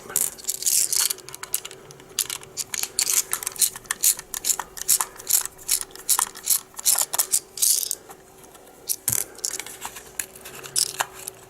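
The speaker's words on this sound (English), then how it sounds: "So now, take out the screws." Screws being removed from a small homemade REM device, a rapid run of close metallic clicks, rattles and ratchet-like scraping in uneven bursts, with a faint steady hum underneath and no talking.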